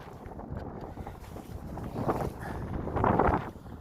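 A gusty crosswind buffets the microphone outdoors during fishing line casting, a roaring rush that swells twice toward the end, no voices.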